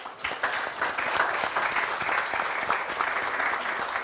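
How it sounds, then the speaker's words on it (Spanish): An audience at a citizens' dialogue panel in Chile claps steadily and warmly, a dense patter of many hands sustained for several seconds without any speech. "Le damos un aplauso a nuestros panelistas"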